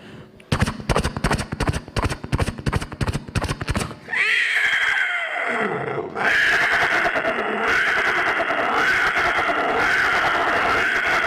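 A performer vocally imitates Sholay horses being reined in and braked: a rapid burst of galloping hoof beats stops abruptly, then long, loud, shrill neighing whinnies follow.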